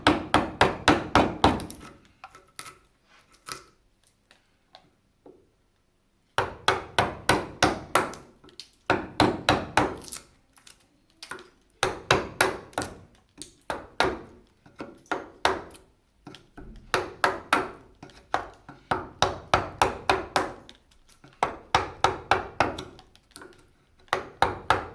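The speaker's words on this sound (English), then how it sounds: "Nice sharp chisel, you should be okay. And just keep chiseling" A mallet drives a sharp chisel through a knot in wood while cutting a corner halving joint, giving quick bursts of hard, close knocks with a silent pause near the start.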